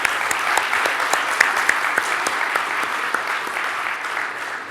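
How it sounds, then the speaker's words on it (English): Keynote audience applauding at a conference: a steady, dense wash of clapping with scattered sharper hand claps standing out, sustained at even loudness throughout. "Let's hear one more round of applause for all of our keynote speakers this morning."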